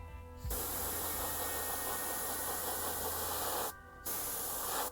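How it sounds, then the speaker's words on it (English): An airbrush sprays blue speed paint onto a paper towel in one steady, close hissing burst, with a brief pause near the end before the spray resumes. "Am I giving a little too much of a spurt there in the airbrush?"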